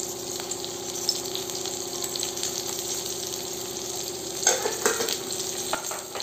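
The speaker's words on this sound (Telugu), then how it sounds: "ఇప్పుడు అల్లం వెల్లుల్లి పేస్ట్ మంచిగా ఫ్రై అయ్యే వరకు ఫ్రై చేసుకోవాలి." Ginger garlic paste, with a little turmeric, fries in a pan with a quiet, steady sizzle and occasional stirring, swelling briefly louder midway.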